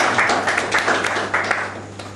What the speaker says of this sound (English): I think we have to clap again for Mr. Ndenecho.